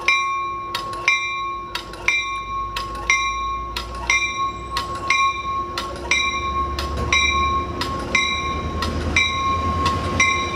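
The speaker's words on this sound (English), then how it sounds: "Here comes this northbound coaster out of, southbound coaster out of Solana Beach Station." Southbound Coaster commuter train leaving Solana Beach Station, cab car leading, with a steady crossing bell ringing in even strokes over a low rumble of the passing train.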